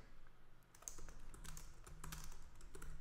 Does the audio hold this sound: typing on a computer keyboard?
yes